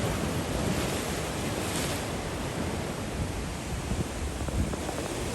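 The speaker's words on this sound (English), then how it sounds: "they've got to be 7-8 foot swells all day long, if not more. Look at the commotion they're causing." Heavy sea swells of seven to eight feet break continuously along the shore at Llandudno, North Wales, with a dense, steady roar of surf and wind buffeting the microphone, and no voices.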